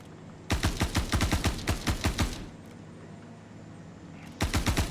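A magazine is dumped in full-auto in a Ghost Hollow shooter game: two rapid bursts of evenly spaced, punchy shots, the first about two seconds long, then a short lull and a second burst starting at the end.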